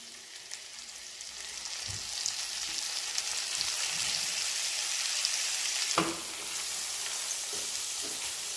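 Washed prawns frying with garlic in a hot pan, a continuous bright hissing sizzle, close and steady, with a few soft stirring knocks and no talking.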